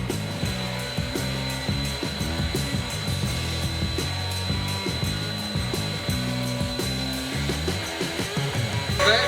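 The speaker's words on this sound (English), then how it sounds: "that's all clear and vacuuming now" Vacuum extraction runs on the bed of a CNC router cutting photo frames, a steady mechanical whir with a fast, rhythmic stuttering pulse repeating for the whole stretch, close and without talking.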